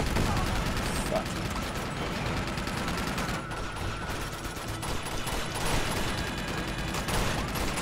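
Uncharted 2 firefight: a dense, sustained wall of gunshots and rattling automatic fire that stays loud and nearly unbroken throughout, with a slight dip midway before the barrage surges again.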